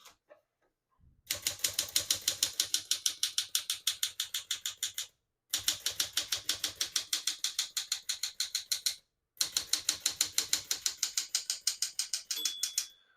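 A 1966 Smith-Corona Sterling portable typewriter clatters through three fast bursts of rapid, even key strikes separated by brief pauses, close and clear, with a single bell ding near the end.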